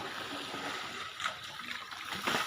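Water is splashed repeatedly during an outdoor bath, with close, irregular splashes and gurgles, and the louder bursts arrive near the middle and the end.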